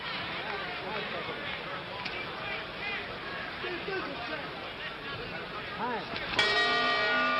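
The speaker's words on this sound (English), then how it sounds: "Two rounds gone, and that time they hear the bell." A boxing ring bell ends round two of the 1964 Sonny Liston versus Cassius Clay heavyweight fight, ringing out sharply near the end over a loud, steady arena crowd roar.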